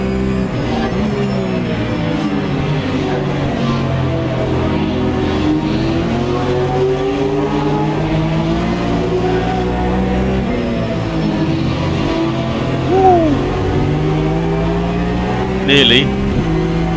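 A Porsche Cayman engine in the racing game Automobilista 2 drones steadily through gear changes and shifting revs, loud and continuous, with someone talking briefly over it.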